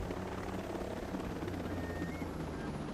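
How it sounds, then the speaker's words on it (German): A video-game helicopter comes in to land, its rotor and engine a loud, constant whirring roar close by, with no voices. "Ich glaube, der Helikopter kippt."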